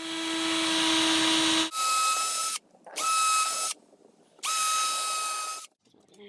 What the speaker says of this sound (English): then just taking a power drill and pre-drilling your holes